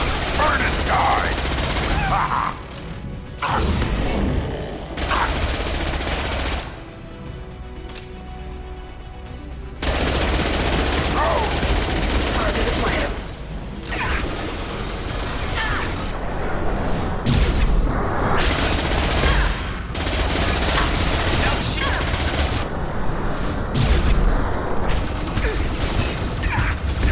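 Gunfire in the video game Mass Effect 3, loud sustained automatic bursts and mechanical clatter in combat that break off briefly and resume across the scene.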